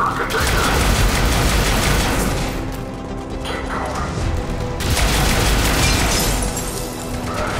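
Sustained gunfire at a checkpoint in Mass Effect 3, a dense loud fusillade of rapid shots and mechanical clatter that briefly dips before surging again, with game voices mixed in.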